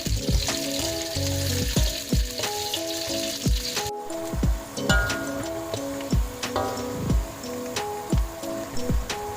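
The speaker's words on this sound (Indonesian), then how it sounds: "Pertama kita goreng dulu ya jengkolnya" Jengkol beans frying in hot oil give a steady, dense sizzle with crackles and pops that runs unbroken throughout, close and fairly loud, with no one speaking.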